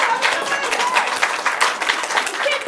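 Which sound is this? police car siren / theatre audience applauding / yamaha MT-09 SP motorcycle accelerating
theatre audience applauding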